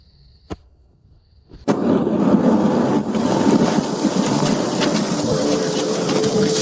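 Heavy rainstorm sound effect in an animated fantasy drama: after a faint sharp tick and a brief lull, a dense, loud, steady downpour roar suddenly starts and continues without voices.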